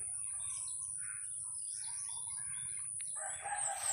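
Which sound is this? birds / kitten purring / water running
birds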